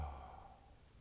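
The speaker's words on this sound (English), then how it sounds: "the very last exhale will be a relaxed exhale" A soft, relaxed exhale during a guided deep breathing meditation, a single gentle breath that fades out quietly.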